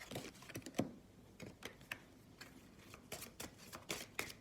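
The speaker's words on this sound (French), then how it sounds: "On va en tirer une de chaque pour finir ce petit tirage." Tarot cards being shuffled and drawn, a run of crisp papery riffles and snaps with sharp bursts spread across the stretch, fairly close and alone without talk.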